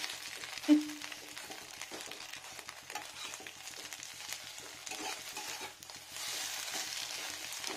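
Eggs fry in oil in a pan for egg masala, giving a soft, steady sizzle and hiss close by, with an occasional faint clink or stir of a utensil.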